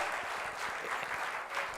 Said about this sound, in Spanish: Le damos un aplauso a...